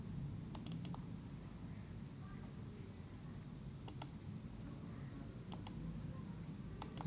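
Computer mouse clicks sound during the setup of Mitsubishi GX Developer PLC software, in short paired and triple bursts spread out over a quiet steady background hum.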